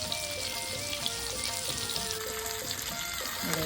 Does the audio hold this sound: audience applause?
no